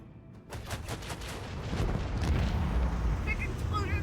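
Big explosions from the Warhammer 40k Rogue Trader video game burst in with a rapid crackling blast and keep up a dense, loud roar of booms to the end.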